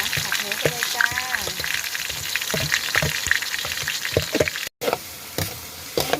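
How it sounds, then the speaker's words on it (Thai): Pork stir-fried in a pan of oil just used for frying garlic, a steady sizzle with scraping stirs and clinks running throughout, with voices heard in the background and a brief dropout near the end. "เราก็มาผัดหมูกันเลยนะคะเพื่อน ๆ"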